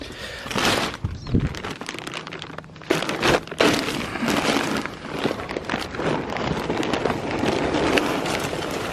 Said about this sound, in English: All you do is load up the hopper right here with pellets, which we will do right now.